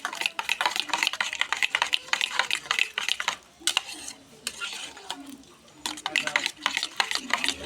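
Two eggs are beaten by hand with chopped onion, dried chilli powder, turmeric and salt, making quick rhythmic clinks and scrapes against a bowl. The beating is close and brisk with a short pause midway, and a voice can be heard faintly in the background.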